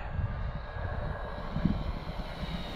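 A Defiant Renegade RC airplane flies overhead, its engine a steady, distant drone that stays faint and even through the short stretch.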